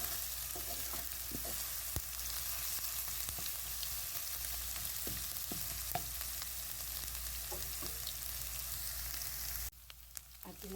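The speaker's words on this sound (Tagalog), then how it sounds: "Susuti lang natin hanggang lumabas yung kanyang aroma." About two tablespoons of ginger sauté in a hot pan as the base for spicy creamy mutton, giving a loud, continuous sizzle with occasional stirring clicks and a short break near the end.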